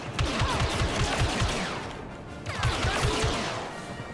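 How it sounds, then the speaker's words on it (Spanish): Rapid bursts of blaster gunfire in the video game Star Wars Battlefront II, loud, close repeated shots in two flurries separated by a short lull. "Ahí puedo disparar sin apuntar y tal"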